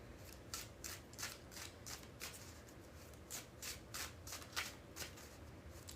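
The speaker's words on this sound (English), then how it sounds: "We need 3 more shuffles." Tarot cards being shuffled by hand in a run of quick, crisp riffling bursts at a steady rhythm, close and fairly quiet with no talk.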